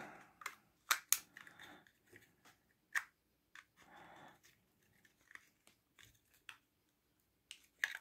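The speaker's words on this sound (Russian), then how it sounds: "Просто простой плоской отверткой." A flat screwdriver pries open the plastic casing of a 3-port USB charger, giving a series of sharp cracks, clicks and scraping crunches at irregular intervals, close and isolated with quiet gaps.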